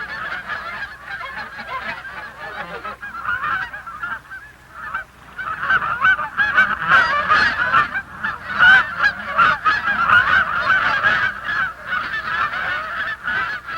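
Migrating geese honk repeatedly in a busy, overlapping chorus, the calls growing louder and denser partway through, with no talking over them.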